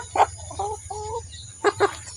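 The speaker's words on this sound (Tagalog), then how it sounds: "Tawag dito sa amin Bisayang manok" Native Bisaya chickens cluck nearby in short separate calls, a few sharp bursts and drawn two-tone clucks spaced across the moment, with no talk over them.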